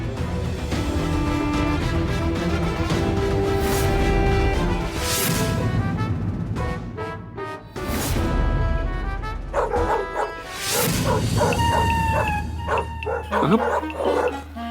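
A dog barks repeatedly in loud yaps and yips, layered over a busy background of other dramatic sound.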